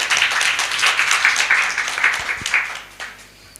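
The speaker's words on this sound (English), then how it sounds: "A round of applause for us." An audience claps at a women lawyers' conference in Kenya, lively applause that gradually thins out and fades to a few scattered claps by the end.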